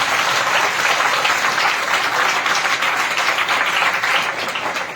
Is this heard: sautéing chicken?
no